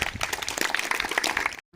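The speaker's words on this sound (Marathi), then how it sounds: "हा ओके टाळ्या." A group claps at a school education-week event, a short burst of dense applause that stops abruptly.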